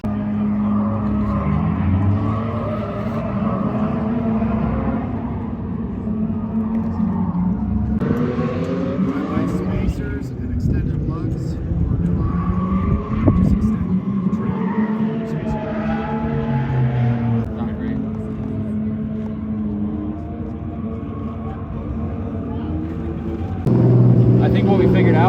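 Drift cars running tandem at Salt City Drift, engines droning and shifting pitch through long continuous passes, fairly loud, with people talking over the motor noise.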